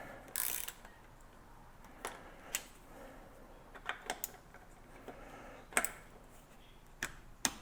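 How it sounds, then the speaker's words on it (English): Bolts on a Shimano Hollowtech II bicycle crankset are tightened to torque, giving sparse, crisp metallic clicks and ticks spaced irregularly over a quiet background, with no voices. "we're just going to want to tighten both of these down to the proper torque specs"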